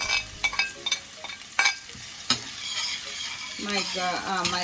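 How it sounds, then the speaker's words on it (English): Onion frying in a pan on a stove set near medium heat, with sharp scraping stirs and clicks of a utensil over a constant sizzle, then the frying swells louder toward the end; close and without speech. "I want to go ahead and also add my"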